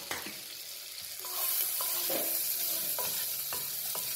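Finely chopped garlic and a single green chili sizzle in a pan for restaurant-style lemon coriander soup, a soft steady frying hiss with repeated light stirring scrapes and taps.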